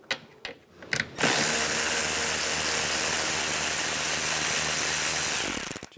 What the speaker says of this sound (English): Using a 10 millimeter socket, we're gonna take this nut and this nut out